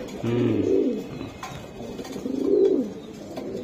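A racing pigeon coos close by, two soft rolling low calls separated by a short pause, alone against faint room noise.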